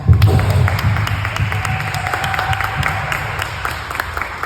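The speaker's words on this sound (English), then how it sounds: "give yourself a round of applause" An audience at a district council meeting applauds a community leader, with moderate, fairly close clapping that stays steady and slowly fades, a low murmur running underneath.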